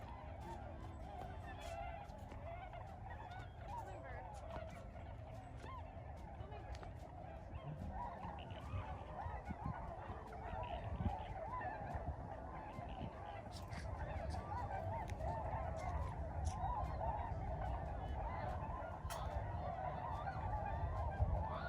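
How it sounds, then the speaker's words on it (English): Sandhill cranes and other migratory birds call in a marsh at a wildlife refuge, a dense continuous chorus of honking calls at mixed distances with steady background noise and some voices. "a much more marshy area full of migratory birds, including Sandhill Cranes"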